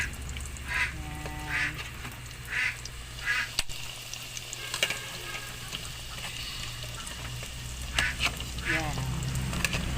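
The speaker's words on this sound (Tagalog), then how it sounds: "Yung aming itik ay maingay." Domestic ducks quack noisily in short repeated bursts at close range, over a steady low background hum, with occasional louder honking calls scattered through.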